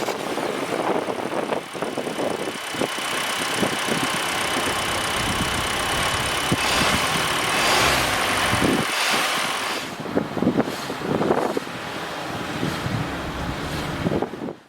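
A 2023 Kia Forte's 2.0-liter four-cylinder engine idles with a steady hum throughout, mixed with heavy wind buffeting the microphone, fairly loud and continuous.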